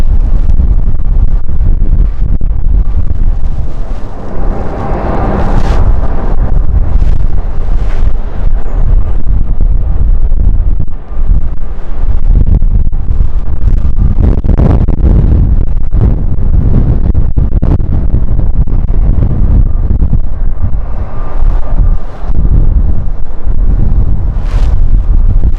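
Strong headwind gusting across an open airport, a loud continuous roar of wind buffeting the microphone, with surging gusts and rumbling swells throughout.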